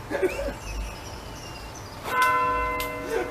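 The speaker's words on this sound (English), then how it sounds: "Even the bell went off." A church bell rings out loudly with a sustained, ringing metallic tone, struck once and then again near the end, over a noisy outdoor background.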